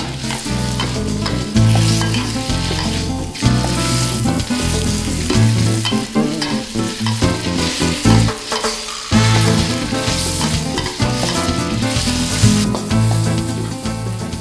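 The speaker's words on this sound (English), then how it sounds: "we turn up the heat a little and add our chicken pieces" Chicken pieces sizzle and crackle steadily in a hot pan, loud and close, with occasional stirring scrapes and no talking.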